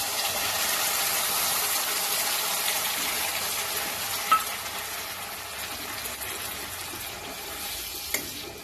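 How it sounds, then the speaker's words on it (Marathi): Ground masala paste frying in hot oil after bay leaves, a steady close sizzle that holds evenly throughout with a couple of brief sharp ticks from stirring. "मसाला छानपैकी तेल सुटेपर्यंत परतायचा"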